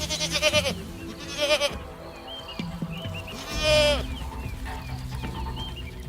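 Goats bleat repeatedly among free-roaming livestock in a Maasai herding village on the savannah, several loud wavering calls overlapping with ambient noise and no talking.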